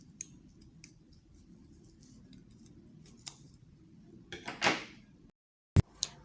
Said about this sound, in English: I'm just going to begin cutting from end to end